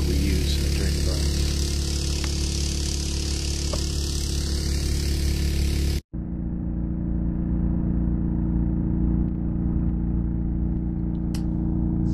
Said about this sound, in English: That noise in the background is the engine that runs the water pumps that we use during the burn.